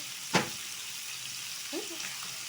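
Onions sizzling in hot oil in a pan for Ethiopian beef tibs, a soft steady fry with a brief sharp clatter near the start and a faint stir later.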